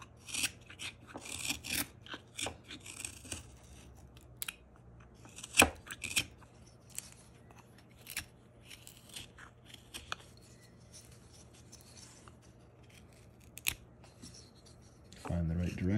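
A knife whittling a wooden pilgrim's hat, with scattered short scraping and shaving strokes and a few sharp nicks, close and fairly quiet over a low steady hum, with a louder rustle at the end.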